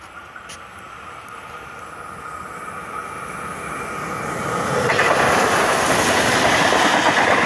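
A passenger train rumbles steadily, growing louder as it approaches and roars past at speed through Wallarobba, with a faint high squeal early on.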